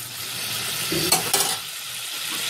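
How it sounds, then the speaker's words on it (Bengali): Shrimp and potato curry sizzling in a pan as a little water is added, a steady close fry with a brief louder splashing burst midway, then settling back to sizzle. "এই যে জল দিচ্ছি, জল আমি এইটুকু নিয়ে দেবো।"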